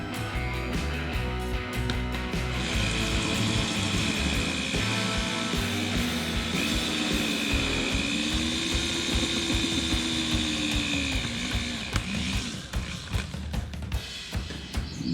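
Larger drill bit boring into aluminum during a lightweight DIY truck camper build, a steady whining grind with ratcheting mechanical chatter that holds for about ten seconds before tapering off, close and fairly loud with no talk.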